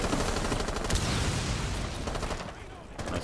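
Bursts of gunfire in Rainbow Six Siege, dense rapid shots crackling loudly with a voice speaking over them, easing slightly toward the end.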